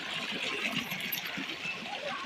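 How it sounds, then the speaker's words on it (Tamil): Steady rushing water of Karanthamalai Falls, a constant splashing flow close by, with no pauses or other sounds standing out. "தண்ணி அது வாட்டுக்கு நல்லா வந்துக்கிட்டே இருக்குது."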